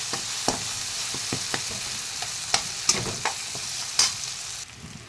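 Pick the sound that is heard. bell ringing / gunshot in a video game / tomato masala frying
tomato masala frying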